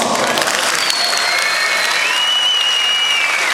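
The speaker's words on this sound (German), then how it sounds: "Vielleicht nochmal einen kräftigen Applaus." Outdoor crowd at a lowrider car show during a tuning event at Lake Constance applauds loudly and continuously, a dense sustained wash of clapping with faint whistles riding over it.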